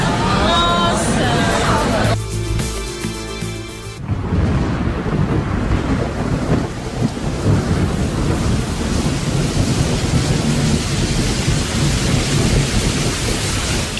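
Heavy rain pours during a storm in Anápolis, a dense continuous roar of downpour with thunder rumbling low, loud and close throughout, briefly preceded by other noise.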